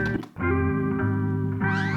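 An unequalized guitar sample from a hip-hop beat plays alone: sustained, harmonically rich chords with a heavy, muddy low end, a brief dip near the start, then a bright bending swell toward the end.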